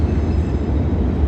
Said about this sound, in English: let's let the train go by